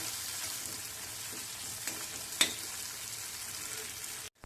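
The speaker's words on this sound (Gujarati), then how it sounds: "સ્લો ગેસની ફ્લેમ ઉપર આપણે ગ્રેવીને બે મિનિટ તેલમાં સારી રીતે સતળાવા દેશું" Gravy sautéing in oil in a pan over a low gas flame for a green chickpea curry, a steady soft sizzle with a few faint stirring clinks, alone with no talk.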